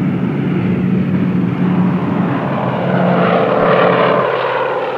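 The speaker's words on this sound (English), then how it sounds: "we got into the airplane and took off" A propeller aircraft drones steadily as it takes off, its engine roar loud and continuous, rising slightly in intensity toward the end with no voices.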